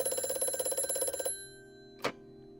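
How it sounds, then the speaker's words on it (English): A telephone rings with a rapid, trilling bell for just over a second and then stops. A short, sharp burst of sound follows in the quiet afterward. "the phone rang."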